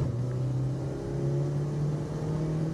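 Car engine held at high revs near the rev limiter around a gear change, a steady mid-pitched drone that stays loud and close throughout with no voices over it.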